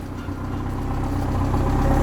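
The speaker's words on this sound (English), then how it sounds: "the idle is fluctuating a little bit" A Mazda Miata engine idles with a slightly fluctuating idle, a close, low rumbling drone that swells gradually and keeps a steady pulse throughout.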